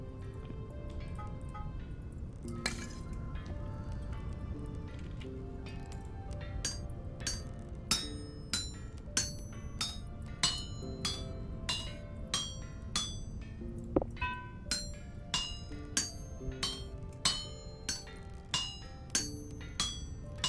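Mechanical hammer in Vintage Story striking metal at a homestead forge: a steady run of sharp metallic clinks repeating about once a second, layered over a constant low mechanical rumble.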